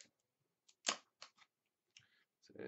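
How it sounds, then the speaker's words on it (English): Scissors snip several times, close and crisp, in a short series of sharp cuts with brief gaps between them and a quieter rustle near the end. "I'm just going to get some scissors and nip the end off."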